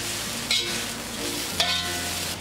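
Fried capsicum and green chilli stirred together in a hot pan for dry ginger chicken, a steady sizzle with two brief scraping clinks of the spatula against the pan.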